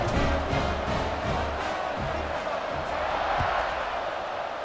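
A stadium crowd in an American football video game roars in a dense, continuous wall of cheering at kickoff after a comeback drive, loud and sustained throughout.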